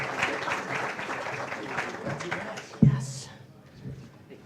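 Applause from the audience at a pub talk event greeting a banker's duet, a dense wash of clapping and crowd murmur with voices mixed in, followed by a sharp knock and a fading tail.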